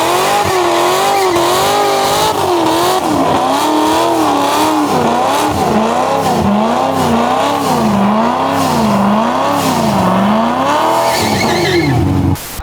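Chevrolet Corvette Z06 doing a tire burnout: a loud, steady engine roar with wavering revs runs continuously close by for about twelve seconds, then cuts off abruptly.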